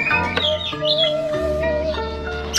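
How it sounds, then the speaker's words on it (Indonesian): Birds call and squawk beside a rice field, with loud, close, overlapping tonal calls and chirps running continuously throughout. "Suara burung. Kita ngerujaknya di pinggir Sawah."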